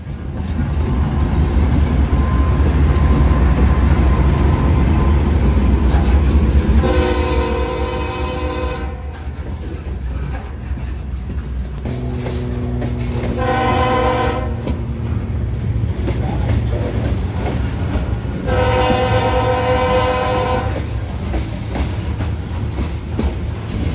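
A CSX freight train rolls past, a loud, close continuous rumble of wagons and wheels, with three separate long blasts of the horn sounding over the passing cars.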